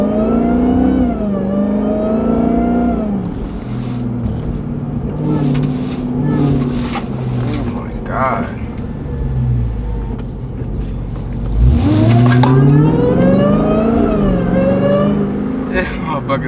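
A 2023 Dodge Hellcat Jailbreak fitted with a Legmaker intake cruises in eco mode, engine droning with a rising supercharger whine that swells sharply as it revs, close and loud, while people talk over it inside the cabin.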